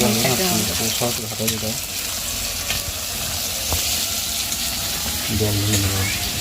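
Meat cooking in oil in a pan sizzles with a dense, continuous hiss up close, while voices talk over it on and off.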